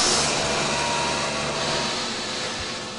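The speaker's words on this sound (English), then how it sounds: "So at first we have to evacuate the toilet system." The vacuum waste system of an Airbus A380's toilets is being evacuated as pumps draw air from the rear waste tanks. A loud, steady rushing hiss eases off gradually toward the end, with no voices.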